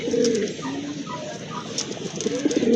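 Large fancy pigeons kept for sale coo close by in a series of soft, low, rolling calls repeated through the moment, with no talk over them.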